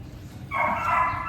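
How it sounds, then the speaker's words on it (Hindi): A dog at a dog hostel gives one sustained, whining bark-like cry that starts abruptly halfway through and holds over low background rumble. "और ये जो भौंक रही है"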